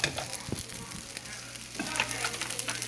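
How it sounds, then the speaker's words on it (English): Eggs fry in a pan while pork and egg fried rice is being made, giving a constant sizzle with scraping stirring strokes and clinks over a low steady hum. "You're going to start adding your eggs."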